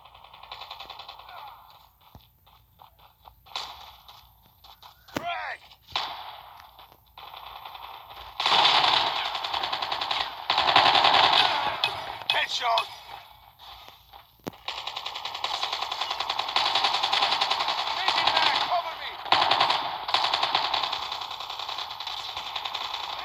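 Rapid automatic gunfire rattles in the Call of Duty Mobile game, with sparse shots early giving way to long, loud, dense bursts that nearly fill the second half.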